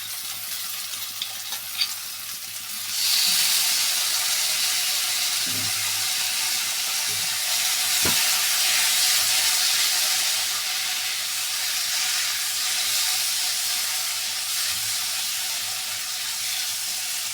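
Pre-boiled chickpeas drop into a hot pan and burst into a loud, steady sizzle that carries on with faint clinks of stirring.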